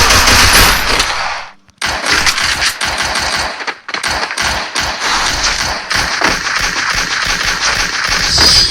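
Rapid automatic gunfire from the Free Fire game during a 4v4 ranked match, loud and close, with sustained bursts, one brief pause, then continuous shooting to the end.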